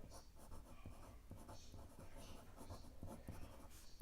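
A Benu Euphoria fountain pen with a fine nib writing on paper in a journal, light scratchy strokes in quick irregular bursts, close and faint, without speech.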